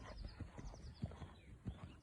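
Horse hooves striking off from walk into canter on the left lead during riding lessons, a series of dull, rhythmic thuds close by, with no talk.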